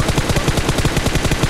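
Rapid automatic gunfire from a shooting video game, a fast steady burst of about a dozen loud close shots with no talk over it.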